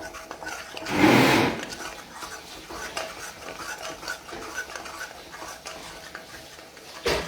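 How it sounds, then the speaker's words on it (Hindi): Ginger garlic paste stirred and sautéed in a kadai while cooking chana masala, with a loud scraping swish near the start, then softer scraping and light clinks close by. "अभी अच्छे से हम इसे भूनेंगे"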